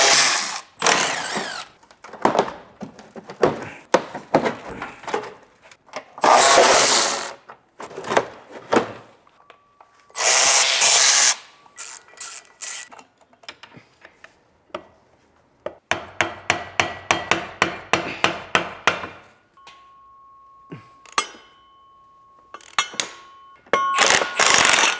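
Ratchet being worked to unbolt the heat shields from a BMW E92 M3 V8, heard as bursts of rapid clicking separated by pauses and clunks of loose parts, close and fairly loud.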